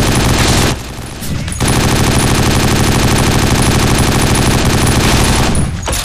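Continuous automatic gunfire in 50 Cent: Blood on the Sand roars loud and dense, with a short pause near the start before the rapid fire resumes and holds almost unbroken.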